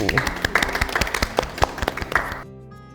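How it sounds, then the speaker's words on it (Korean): A small audience claps for a priest who heads hospital health policy, welcoming him to an interview at Seoul St. Mary's Hospital. The crisp, close clapping runs densely and then cuts off abruptly, leaving a faint tone. "박수."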